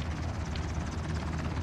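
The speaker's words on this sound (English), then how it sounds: "This helicopter will only stay for a short period of time." A helicopter in the video game Ring of Elysium drones continuously with a steady, fast rotor chop and broad engine roar, close and constant from start to finish.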